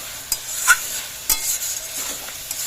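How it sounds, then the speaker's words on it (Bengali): Spices frying in a pan for a chicken curry, a soft sizzle broken by several sharp scrapes and clinks of a spoon stirring against the metal, close and sparse. "একটু ভাজা হয়ে গেছে মশলা দিয়ে দেবো"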